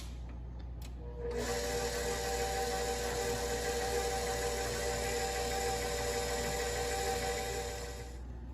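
An electric mixer with a paddle stirs a cup of nuts into cake batter. After a brief rattle it starts up and holds a steady, close whirring hum for about seven seconds, then it eases off.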